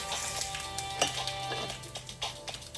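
Bay leaves and a little sauce hit hot oil in a pan already holding mustard seeds, while making a homemade spicy coconut fish curry, giving a steady close sizzle and frying crackle with occasional light clinks of a stirring utensil.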